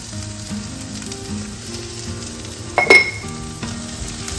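Paneer frying with oregano in a pan, a steady close sizzle and crackle with one brief louder burst of spatter or stirring partway through.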